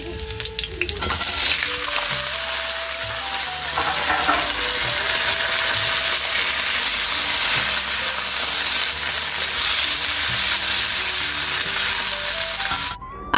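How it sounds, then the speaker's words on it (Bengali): Sliced flat beans and potato fry in oil in a pan, giving a loud, continuous sizzle that runs unbroken for the whole stretch, with faint melodic tones in the background. "আর এখন সিম ভাজাটা বসিয়ে দিচ্ছি"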